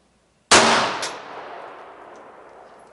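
A single loud 9mm pistol shot fired over a chronograph at a range, a sharp crack followed by a long reverberant decay, heard alone with no talking.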